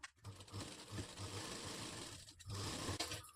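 An electric sewing machine stitches fabric for a katori blouse at a quarter-inch seam margin, whirring in short rhythmic bursts with brief pauses between runs, close and steady, with no voices.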